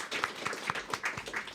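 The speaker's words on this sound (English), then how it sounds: "Round of applause" A small audience claps for a speaker at a live panel discussion, with distinct individual claps in a sparse, uneven rhythm, fairly quiet and brief.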